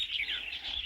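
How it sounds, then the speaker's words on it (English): Birds chirp and tweet continuously in a burnt forest of bare, leafless trees, a steady chorus of fairly faint, high calls with no talk. "There's lots of birds going around."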